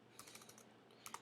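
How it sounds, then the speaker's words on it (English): Typing on a computer keyboard: a few soft, scattered keystrokes at low level, with a small burst of clicks near the end. "Now I'm going to type a sentence."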